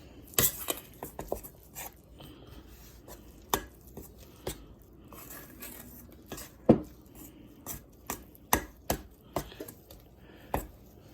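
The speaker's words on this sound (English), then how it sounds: "Then we're going to mix it all up." Dumpling batter for chicken and dumplings stirred in a bowl, irregular knocks and taps of a utensil against the bowl, close and fairly distinct, with quiet gaps between strokes.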